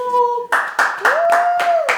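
A few people clap in short bursts alongside a sustained tonal whistle or hum, with a brief rising pitch in the middle; the claps are loud and close.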